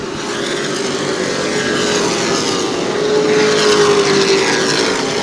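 Sportsman race cars lap New Smyrna Speedway, and their engines make a loud, continuous droning roar with a sustained pitched whine. The sound swells gradually as the pack passes, with no break in the noise.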